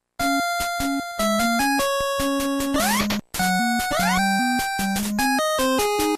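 Bright, chiptune-style music from the game Super Pitfall with a bouncy bass line and beeping lead repeating a short loop, briefly cutting out before resuming.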